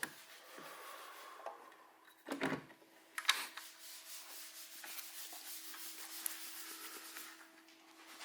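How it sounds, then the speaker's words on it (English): Body side skirts for a Nissan 240SX being sanded in a shop: steady rubbing strokes with a few louder bursts and light clatter, close and continuous, with no one talking. "sanding some skirts over here"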